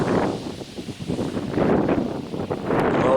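Wind gusts steadily across saguaro cacti in the Arizona desert, a loud, broad rushing roar with mic buffeting that swells and dips for a few seconds.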